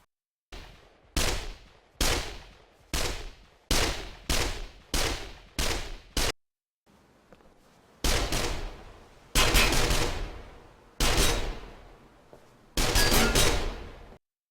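Gunfire in the tactical shooter Squad: a string of about eight sharp single shots in steady rhythm, a short pause, then several longer, louder bursts of fire, close and dry with no talking.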